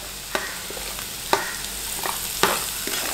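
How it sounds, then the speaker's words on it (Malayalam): Mango and mango ginger sautéing in a pan for pickle, a soft continuous sizzle broken by a few sharp clicks of a spoon stirring against the pan, close and without talk. "മാങ്ങയും മാങ്ങഞ്ചിയും കൂടി ഒരുമിച്ച് ഇങ്ങനെ വഴറ്റിയെടുക്കുക"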